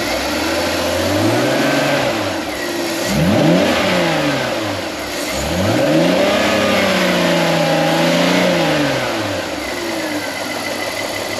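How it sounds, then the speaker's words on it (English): A 25-year-old BMW E46 with an inline six-cylinder engine revs and accelerates up close, rising and falling through two strong sweeps before settling back toward idle, with no voices. "This is my first inline 6-cylinder engine."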